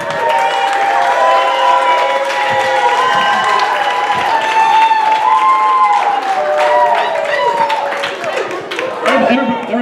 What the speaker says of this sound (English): Let's give it a round of applause for Philip.